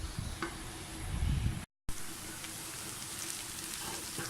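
Onions fry to golden in a pan for a mutton chops gravy, a steady dense sizzle close by that continues with one brief dropout.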